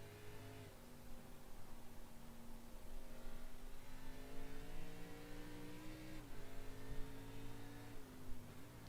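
A race car engine in a racing video game holds a continuous droning rev on worn old tires at Road America, pitch rising and dipping gently as the throttle is eased, steady and prominent throughout.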